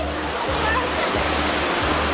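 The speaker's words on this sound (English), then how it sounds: "we've just come over the way to the cloud forest, which is the second one of these conservatories here, and the largest indoor waterfall in the world" Broadband roar of the world's largest indoor waterfall inside the Cloud Forest conservatory in Singapore, a steady close rushing wash of falling water with a low rumble and voices faintly mixed in underneath.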